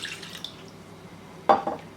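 Water drips and splashes into a pan for a sweet chilli garlic sauce, a few soft sloshing drops near the end over a quiet background.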